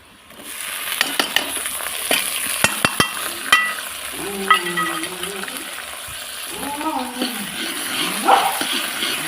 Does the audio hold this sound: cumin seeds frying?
yes